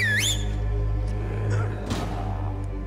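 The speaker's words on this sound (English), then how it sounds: "Nice whistle." A Spider-Man 2 video game character gives a short, rising whistle at the very start, then falls quiet beneath a steady low hum and faint background game sounds.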